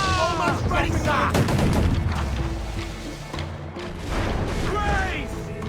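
Ship cannons fire in a naval battle in Assassin's Creed Black Flag, a ragged volley of heavy booms and crashing blasts rolling over several seconds, with shouted crew orders and battle voices mixed in.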